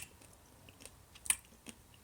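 Crunchy oven-baked locusts being chewed close up, with a few faint, sparse crunches and one sharper bite standing out in a quiet room.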